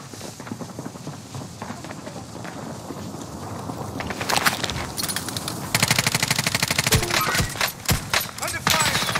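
Video game gunfire erupts partway through, rapid automatic bursts rattling loudly in quick succession after a calmer stretch, with players' voices talking over the action.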